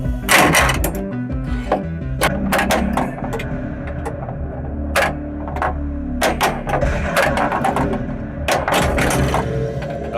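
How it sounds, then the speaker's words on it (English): A pinball machine shaker motor rumbles inside the cabinet during play on a Stranger Things table, a low steady vibration under continuous sharp clacks and knocks from flippers and the ball. "When I hit the Demogorgon, it takes 5 shots to kill him, you'll really hear that shaker motor go off"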